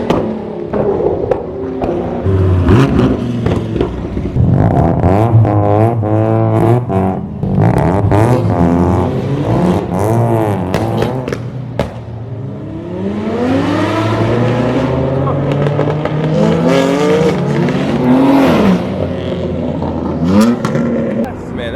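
A Lamborghini Huracan supercar, popping flames, roars past on the street with a loud exhaust note that rises and falls in sweeping revs, mixed with the drone of a nearby straight-piped car and some talk.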